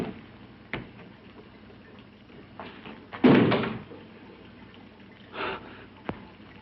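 In a 1960s horror movie, a door gives one heavy, loud bang, surrounded by softer thumps and a few sharp ticks in an otherwise quiet room.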